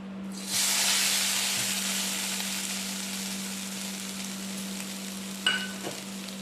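Ground coconut and green chili paste hits a hot pan and erupts into a loud, close hissing sizzle that gradually settles, with a steady hum beneath and a brief utensil clink near the end.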